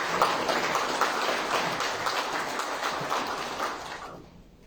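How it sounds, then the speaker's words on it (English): An audience at the launch ceremony of the Afrinex exchange in Mauritius breaks into a sustained round of applause that holds evenly, then fades away near the end. "a round of applause to the team"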